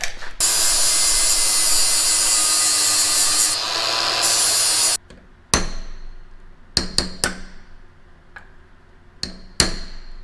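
Cutting a chain to fit a hydraulic motor on a plot sprayer being set up to inter-seed cover crops: a loud steady grinding cut for about five seconds, then several sharp separate metallic clanks and knocks in a quieter space.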